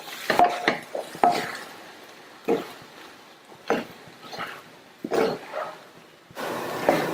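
Cooked rice stirred in a pan over a low flame, a series of irregular scraping and clinking strokes of a spoon against metal, close and fairly loud, with quiet pauses between.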